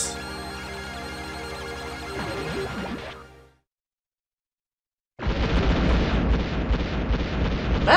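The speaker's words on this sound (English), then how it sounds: "Man, the explosion is loud." A loud, deep rumbling explosion in the video game Wild Arms bursts in after a brief silence and roars on to the end, following a fading tonal game sound.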